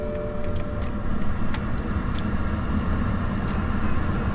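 A BMW F80 M3 sitting on air suspension runs with a steady, loud engine rumble throughout, a continuous low drone without a distinct starter crank, heard alone with no talk.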